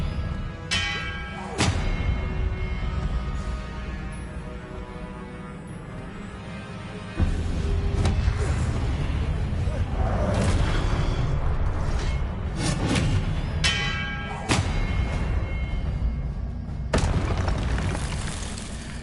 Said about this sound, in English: Hitting those marks readjusts the archways